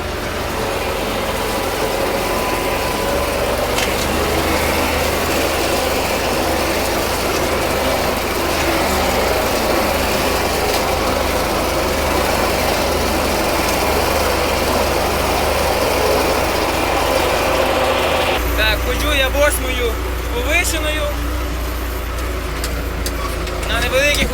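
Tractor engine running steadily in sixth gear while mowing hay, a loud continuous low drone throughout with a shift in tone near the end, and someone talking over it.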